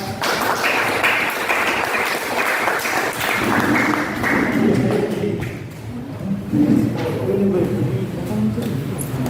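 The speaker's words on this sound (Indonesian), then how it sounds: "Beri aplaus untuk kelompok dua" Audience applause for a student group after a classroom presentation, a dense steady clatter of many hands lasting several seconds, loud and close, with voices mixed into the clapping.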